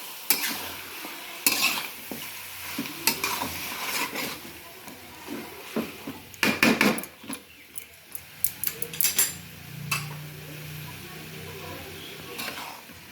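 Marinated boneless chicken frying over medium-high heat in a pan, with soft sizzling under repeated sharp scrapes and clinks of a spatula stirring against metal, close and moderately loud, while a voice speaks intermittently.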